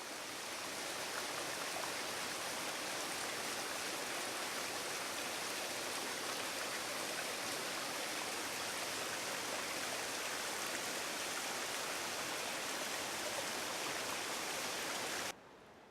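A waterfall in a gorge at Letchworth State Park sends up a steady, broad rushing roar, even and unbroken from a moderate distance, with no voices, before cutting off abruptly at the very end.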